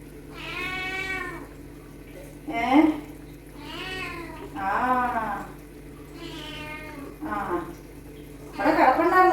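Kitten meows repeatedly, a series of drawn-out, rising and falling cries spaced a second or two apart, close and fairly loud against a quiet indoor background.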